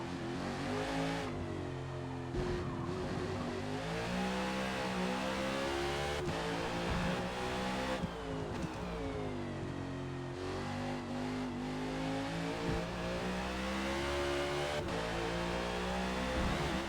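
A NASCAR race car in Forza Motorsport on the Indianapolis road course, its engine roaring loudly and continuously, dropping in pitch under braking and climbing again through repeated revs as it accelerates.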